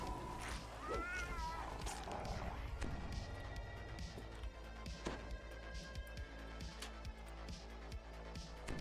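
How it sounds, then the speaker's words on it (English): Cat creatures in Dungeons and Dragons Online give a few short rising meows early on, over a steady, busy backdrop of game music and ambient effects with occasional thuds. "And surprise, surprise, more kitties."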